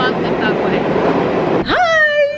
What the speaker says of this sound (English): I successfully figured out the subway.